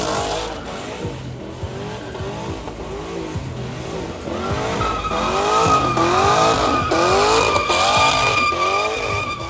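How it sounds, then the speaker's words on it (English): A vehicle doing a burnout with repeated rising-and-falling tire squeals and revving engine, loud and close, pulsing in waves that grow stronger toward the end. "for now we gotta enjoy some more burnouts"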